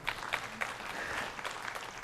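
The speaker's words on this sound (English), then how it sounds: "Feel free to applaud." Audience applause at a live tech presentation on platform storage, steady clapping from a crowd with scattered sharper claps throughout, no speech over it.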